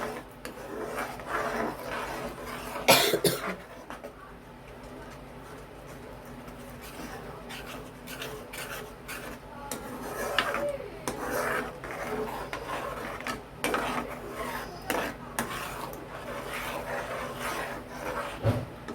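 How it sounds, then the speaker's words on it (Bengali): A spatula scrapes and rasps in a pan as prawn masala with sour yogurt is stir-fried for chingri macher muitha, in steady repeated strokes at a close, moderate level with one louder clatter early on. "এটাকে ভালো করে কষে নিতে হবে"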